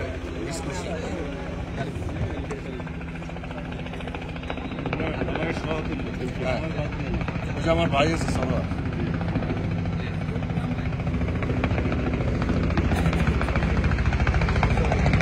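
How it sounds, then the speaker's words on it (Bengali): A helicopter approaches over a crowd, its rotor chop and engine roar swelling steadily louder and nearer across the span while people talk nearby. "হেলিকপ্টার কিন্তু একেবারেই চলে এসেছে কাছে, একেবারেই কাছে চলে এসেছে"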